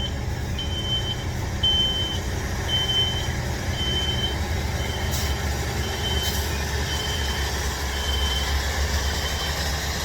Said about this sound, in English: There's a box truck backing up right next to me.